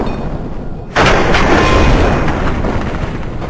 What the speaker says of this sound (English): I'm kind of sick of these explosions.